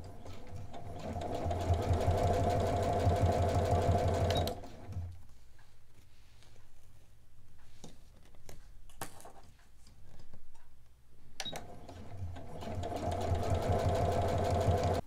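A sewing machine stitches a fabric tube for a scrunchie, whirring in rapid mechanical bursts that stop for several seconds mid-clip before resuming, close and fairly quiet.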